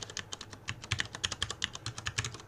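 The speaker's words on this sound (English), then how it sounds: "I'll just type it out so you guys can see." Quick keystrokes on a computer keyboard as a website domain name is entered, a steady run of close, crisp clicks with uneven rhythm and no talking.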